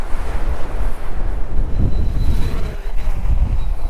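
Strong wind blowing across the sea batters the microphone with heavy low rumbling gusts and buffeting, continuous and loud, with a faint whine of a drone motor in the background.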